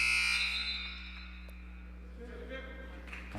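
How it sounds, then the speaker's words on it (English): An electronic buzzer sounds during a varsity girls' basketball game, a loud sustained tone at the start that fades under gym noise, with commentary voices faintly present. "Not sure why we're hitting the buzzer here."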